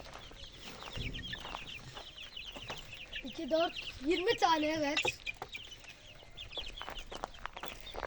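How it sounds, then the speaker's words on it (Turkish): Chicks cheep in a steady high-pitched chatter while people talk nearby in a village in Çan, Çanakkale, Turkey, with a few louder clucking calls midway. "Burada civcivlerimiz var."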